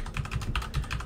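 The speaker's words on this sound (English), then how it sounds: "I need to obviously type in my password" A password is typed on a computer keyboard while setting up a Raspberry Pi: rapid, close key clicks in an uneven stream, with no talk.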